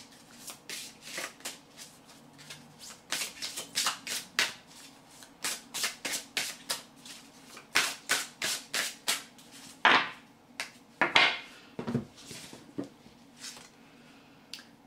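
A deck of oracle cards is shuffled close up in a long run of quick, crisp riffles and slaps, steady in rhythm, with a few louder flicks toward the end.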